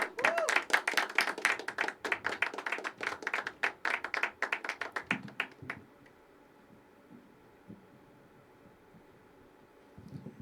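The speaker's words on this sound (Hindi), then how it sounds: "जोरदार जोरदार जोरदार तालियों के लिए स्वागत करिए अजिंक्य का" Small open mic poetry audience clapping to welcome a poet, a few close, distinct hands beating rapidly and loudly for about six seconds before stopping abruptly into near quiet, with a faint tap near the end.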